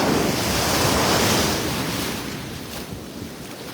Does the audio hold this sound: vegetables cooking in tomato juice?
no